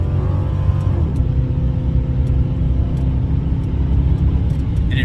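A CanShift Panther car engine idles and climbs through revs during a rolling start, a steady close low rumble with harmonic drone throughout, alone without talk.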